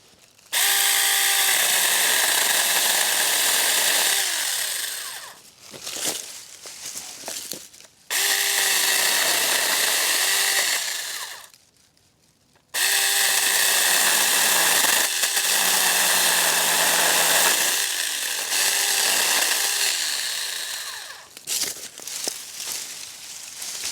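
A battery-powered 6-inch mini chainsaw cuts through small branches about an inch thick, its loud steady whine running in long bursts with brief pauses between cuts.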